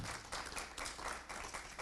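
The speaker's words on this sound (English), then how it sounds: "I think you can join me in a very big round of applause for our 4 wonderful panelists." Audience applauding four panelists at the close of a panel on the Global South and the war in Ukraine, a continuous wash of clapping held at an even level throughout, faint and somewhat distant.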